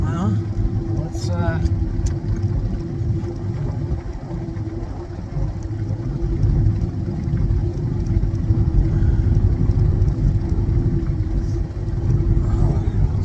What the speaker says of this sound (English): Boat's barely in reverse, basically at idle.